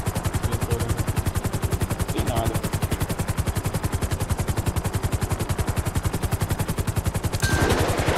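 Steady automatic gunfire in a Grand Theft Auto V roleplay set in a favela, a fast, loud, unbroken rattle of shots running the whole time, with a helicopter-like drone and faint voices beneath.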